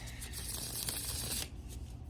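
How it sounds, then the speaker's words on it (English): Tarot cards shuffled in a steady, papery riffle that runs close and loud for about a second and a half, then eases into softer handling as the deck settles. "Let me give it a good shuffle and cleanse that off."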